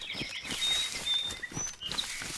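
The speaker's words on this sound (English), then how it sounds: "We will listen intently for the birds." Birds chirp in the DayZ video game world, with several thin, bright calls and tweets over a soft outdoor ambience.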